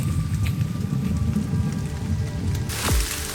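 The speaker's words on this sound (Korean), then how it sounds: "마침내 엿새 만에 내리기 시작한 비" Rain falls steadily at night, a dense close patter on surfaces throughout, with a brief sharp swell near the end.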